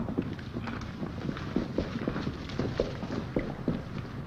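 Horses walking outdoors on a reserve, with a steady run of clip-clopping hoofbeats at moderate distance over a continuous background hiss, and no speech.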